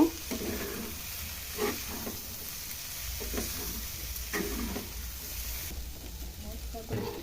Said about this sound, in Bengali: এবার এর মধ্যে ব্রোকলিটা দিয়ে দিব। এবার সব একসাথে মিশিয়ে নিব।